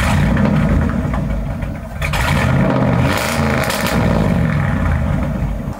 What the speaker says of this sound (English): Now why don't we go out and hear that brand new exhaust